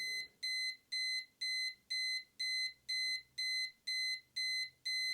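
An electronic Yunbaoit kitchen timer beeps in a steady pattern, about ten clipped bursts of high rapid beeps, clear and loud against near silence.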